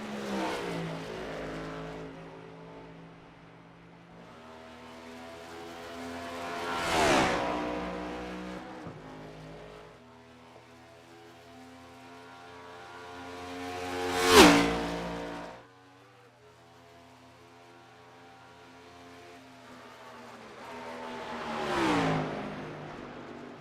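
A dirt track race car, the number 88, roars past three times, each pass rising to a loud close peak and then fading away, with the engine revving steadily between passes.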